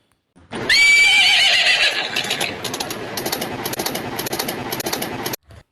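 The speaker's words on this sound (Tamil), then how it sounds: "இப்போ நீங்கள் பார்க்குறது செவல கலரு பெண் குதிரை" A native-breed chestnut mare trained to pull a cart gives a loud, close whinny that trails off, followed by a series of softer rhythmic snorts and pulses.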